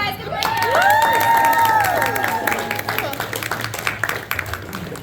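A convention crowd at Ramencon cheers and whoops loudly for a man eating a hot pepper, with a rising cheer followed by scattered clapping and voices.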